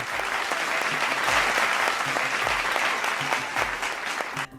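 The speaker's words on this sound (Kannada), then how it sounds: "ಅವ್ರಿಗೂ ಬರಲಿ ಜೋರಾದ ಚಪ್ಪಾಳೆ" Loud, sustained audience applause welcoming a guest lyricist on stage at a Kannada music show, dense clapping steady for several seconds before tapering at the end, no talk over it.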